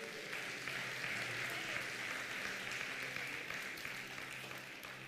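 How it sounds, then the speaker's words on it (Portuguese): A church congregation applauds steadily, a broad, even wash of many hands clapping at a distance that holds for several seconds without a break. "Você pode aplaudir o Senhor Jesus por isso?"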